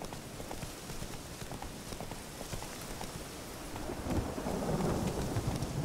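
Horse riding through rain in The Witcher 3, with steady hoofbeats under a continuous hiss of rainfall and a low rumble that swells toward the end.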